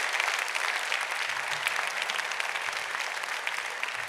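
A crowd applauds at a literary prize ceremony, a loud, steady wash of dense clapping that holds evenly throughout.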